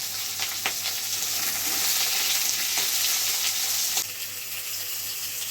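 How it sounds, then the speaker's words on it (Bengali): Potatoes frying in oil with panch phoron five-spice: a loud, continuous crackling sizzle close up, with a few sharp stirring taps, easing slightly near the end, no talk. "তেলের মধ্যে 5 ফোড়ন দিয়ে আলুগুলোকে ভেজে নিচ্ছে।"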